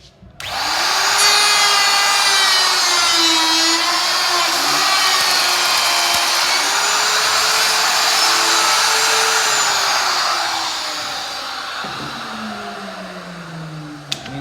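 A power tool whines loudly and steadily while routing a rabbet along the edge of a wooden board, its pitch wavering slightly and easing toward the end of the pass.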